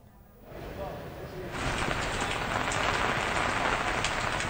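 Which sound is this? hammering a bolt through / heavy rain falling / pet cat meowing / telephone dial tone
heavy rain falling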